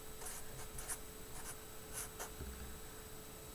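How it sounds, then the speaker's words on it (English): Pen or pencil writing by hand while working a coordinate geometry problem: a series of short scratchy strokes with brief pauses, close and fairly quiet over a faint steady hum, with no talk. "I'm just going to go ahead and write that."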